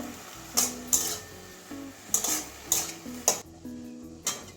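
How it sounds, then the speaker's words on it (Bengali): Bitter gourd and water spinach are stirred in a pan, a soft sizzle under repeated scraping and clinking of a utensil against the metal, several distinct strokes at an uneven rhythm, close and without speech. "ভালো করে মিশিয়ে দেবো"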